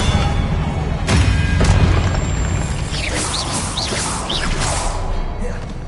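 Spells like Incendio, Repulsor and Expelliarmus are cast in Hogwarts Legacy, a run of booms, whooshes and sparkling sweeps with crashing impacts, while a voice shouts the incantations over the effects.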